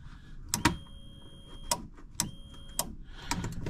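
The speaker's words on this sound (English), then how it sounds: "That relay on the left side there clicks." Sharp mechanical clicks from a relay on the left side of a Polaris RZR utility vehicle with a fan problem, several isolated ticks spaced about a second apart over a quiet background hum.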